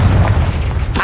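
A short, loud explosive blast from the Confringo spell in the video game Hogwarts Legacy, a heavy booming impact at close range that ends with a sudden bright crack.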